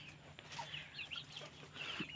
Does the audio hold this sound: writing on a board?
no